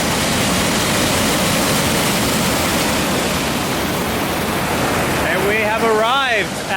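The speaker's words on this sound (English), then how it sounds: "Arrived at the lower falls" Lower falls of a waterfall near Niagara roar as a loud, steady, broadband wash of water close by throughout, with brief bird-like chirps rising over it near the end.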